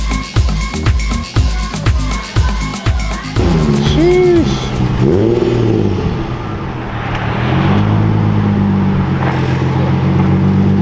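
A restored Nissan 350Z engine idles with rhythmic throttle blips, then revs rise and fall in long sweeping pulls before settling into a steady loud rumble.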